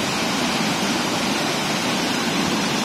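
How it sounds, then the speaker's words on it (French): A waterfall in Doi Inthanon National Park, Chiang Mai, Thailand, heard as a constant broadband rushing of falling water, loud and unchanging with no voices. "cette jolie cascade."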